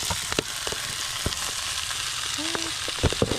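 Matoke bananas fry in a small pan over a village fire, giving a steady broadband sizzle with scattered crackles and pops, and a brief faint voice partway through.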